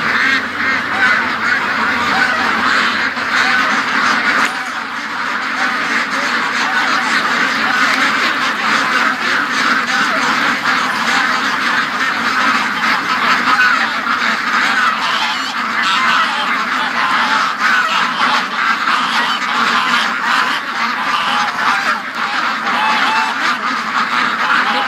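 Ducks being raised for charity quack steadily while geese honk among them, a dense, loud, continuous flock chorus that runs the whole time with no talking.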